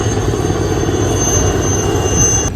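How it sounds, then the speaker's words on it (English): A helicopter flies overhead near a beach, giving a loud, steady, rumbling beat that holds through the whole clip. "Helicopter."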